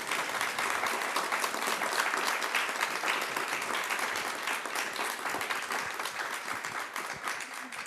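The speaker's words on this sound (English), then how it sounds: "Can we have a round of applause for these amazing panelists?" Audience applause for the panelists at a climate and health symposium, a steady, dense clatter of many hands clapping that holds for several seconds before easing slightly toward the end.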